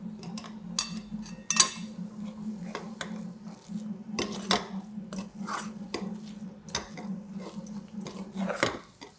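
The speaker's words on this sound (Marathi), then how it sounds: "आता हलवायचं आपलं सारखं हलवायला लागतं" Moong dal halwa stirred with ghee in a pan, a quiet run of repeated clinks and scrapes of a spoon against metal, irregular and close, under a low steady hum.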